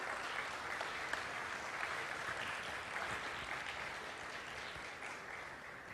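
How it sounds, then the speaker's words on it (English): Sustained applause from an audience at a school competition's closing ceremony in Malaysia, a dense even wash of clapping that holds steady for several seconds before easing slightly, with no voices over it. "Another round of applause for them."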